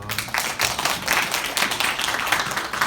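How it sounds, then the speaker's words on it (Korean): A church congregation at a high-school Sunday service applauds three new teachers, a brisk, crowded patter of many hands clapping steadily throughout, fairly close and without speech. "선생님 세 분께 다시 한번 뜨거운 박수 한번 부탁드리겠습니다"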